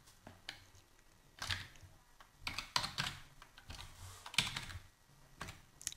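PHP code being typed on a computer keyboard, with quiet close keystrokes coming in irregular clusters and short pauses between them.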